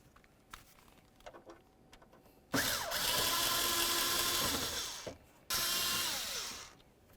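A power screwdriver whirs through two sustained runs, each a couple of seconds long, backing Phillips head screws out of an interior panel on a 2000-2005 Buick LeSabre, close and loud after a few faint clicks, with no talk.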